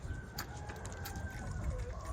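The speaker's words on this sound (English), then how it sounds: "looks like a chicken wants to lay" A laying chicken clucks and murmurs in short repeated calls close by over a steady low background rumble.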